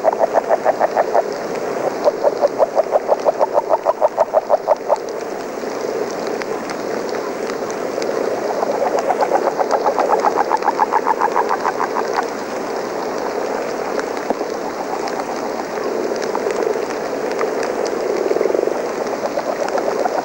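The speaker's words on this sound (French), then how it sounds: "Nous distinguons bien les gloussements saccadés et relativement aigus des grenouilles agiles sur le fond des ronflements graves, sourds, émis en longs traits par les grenouilles rousses." Agile frogs and common frogs call together in the rain: rapid, fairly high clucking bursts from the agile frogs ride over a low, muffled snoring drone from the common frogs, with steady rain hiss underneath throughout.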